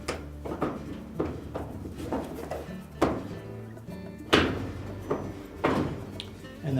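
A Frigidaire dryer's outer door is lifted and pulled off the cabinet, giving several dull knocks and thunks of varying loudness at close range with light handling clatter between them and no talk.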